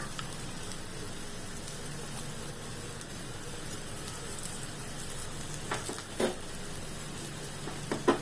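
Asafoetida sizzling in hot oil in a pan, a steady dense crackling hiss with a few sharper pops near the end, close and unbroken, no voices.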